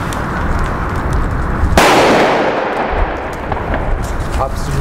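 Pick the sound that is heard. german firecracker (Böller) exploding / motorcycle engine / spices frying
german firecracker (Böller) exploding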